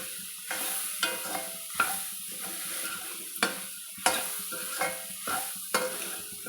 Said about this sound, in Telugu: ఇప్పుడు మీల్ మేకర్ వేసుకోవాలి. ఇవి నూనెలో మంచిగా ఫ్రై కావాలి.